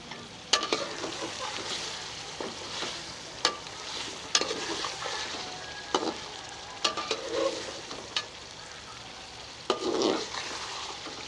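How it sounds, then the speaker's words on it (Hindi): Fish karahi fries in a pan after several minutes of cooking, a soft continuous sizzle broken by sharp scraping knocks of a spoon stirring against the pan, with a louder bubbling burst near the end. "मुझे भूनते हुए 6-7 मिनट हो गए हैं।"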